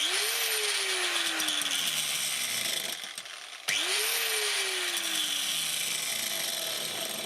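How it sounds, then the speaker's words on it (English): A grinder fitted with a wide wheel sharpens the teeth of a chainsaw chain in two steady grinding passes. Each pass opens with a rising whine that then sags in pitch, with a brief quieter gap between them. "I decide to sharpen further with a wide wheel."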